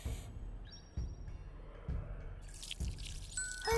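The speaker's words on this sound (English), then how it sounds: "Drip of some wine." Wine drizzled onto fish in the cooking video game Lost Recipes comes through as soft, quiet drips at a slow, even pace, about one per second, with faint chimes near the end.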